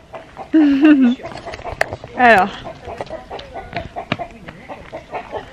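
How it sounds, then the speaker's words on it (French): Chickens (hens) cluck and squawk nearby in short bursts, with softer clucking and scattered pecking sounds as they eat leftover scraps between calls, and people talking at times. "On va montrer les poules à Gabin."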